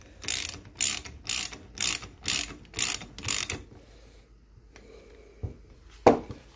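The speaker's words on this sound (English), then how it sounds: "wrench of your choice" A ratchet wrench tightening oil pump bolts on a Pontiac V8 during an engine rebuild, seven quick clicking bursts in a steady rhythm up close, then a pause and a couple of single knocks.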